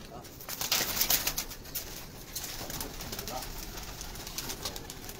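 A flock of pigeons released from a rooftop in Karachi takes off, with bursts of wing flapping and scattered cooing over a noisy outdoor background.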